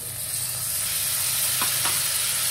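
Chopped onions, tomatoes and cashews fry in a hot pan, giving a loud, steady hiss and sizzle with a couple of brief crackles near the end.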